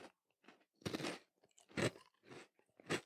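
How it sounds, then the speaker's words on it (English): Someone bites and chews a chocolate-filled koala wafer biscuit close to the mic, giving a series of five crisp crunches in an uneven rhythm with quiet pauses between bites. "Just a wafer crunch, and then the chocolate's not too sweet."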